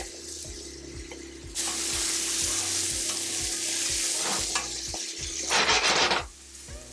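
Mushrooms hit a hot pan beside a seared sous vide pork tenderloin and sizzle loudly and steadily, broken by a few scrapes and stirs, with a rhythmic low thumping running underneath.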